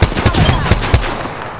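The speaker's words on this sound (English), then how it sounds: "Listen up, I'm getting shot at." Rapid automatic gunfire in the video game Apex Legends, a loud close burst of about six sharp shots in quick rhythm that trails off into a fading echo.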